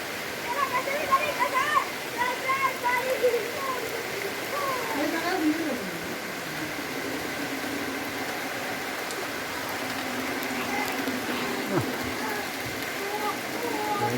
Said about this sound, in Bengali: ভিতরে বৃষ্টি আসছে